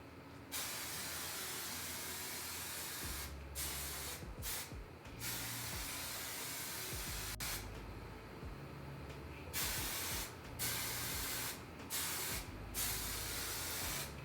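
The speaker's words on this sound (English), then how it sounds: "I'm gonna spray the fuck out of it now." Hairspray is sprayed over a hair bun in long, steady aerosol hisses, several sustained blasts broken by short pauses and a few quick bursts, close to the microphone and without any talking.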